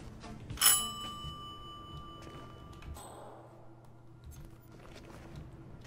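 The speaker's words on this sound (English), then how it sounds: "Ring the doorbell." A doorbell in the video game Hitman gives one bright ring that lingers and fades over a few seconds. It is loud and alone, followed by quiet room ambience and faint footsteps.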